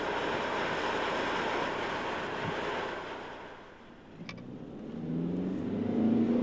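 Interior road noise inside a moving Audi A4 car: a steady broadband roar that dips briefly midway, then swells again louder, with no one speaking.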